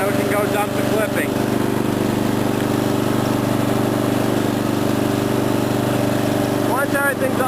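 An Ariens rear-engine riding lawnmower runs steadily close by, with a constant droning engine hum throughout and brief bits of background noise near the start and end.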